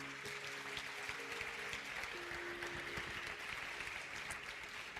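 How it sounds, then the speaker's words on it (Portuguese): A church congregation applauds in a steady, moderately loud patter of clapping, with some held tones and murmuring voices mixed in beneath it. "Você pode aplaudir ao Senhor por isso?"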